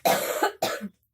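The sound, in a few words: woman coughing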